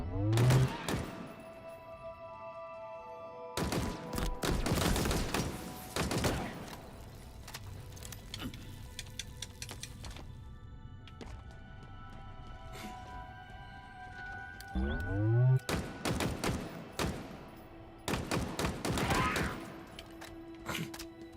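Sentinel enemies firing rockets in a video game, with several loud bursts of explosive gunfire and crashes separated by quieter stretches of ringing, echoing game sound, no voices.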